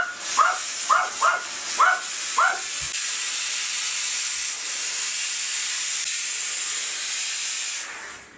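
Steam cleaner from a Kitfort household steam generator, set to maximum, blasting a continuous loud hiss of steam for several seconds after a few short sharp bursts near the start.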